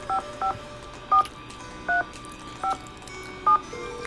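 A telephone keypad is dialed in the Nancy Drew game Treasure in the Royal Tower, producing six separate touch-tone beeps spaced unevenly over a low background hum, with no voices.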